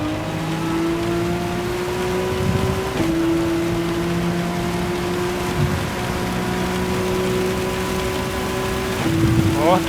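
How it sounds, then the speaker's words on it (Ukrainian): Steady hiss of heavy rain in Gran Turismo 7 runs under a continuous droning race car engine whose pitch climbs and drops as gears change; no talking. "вже пішов дощисько"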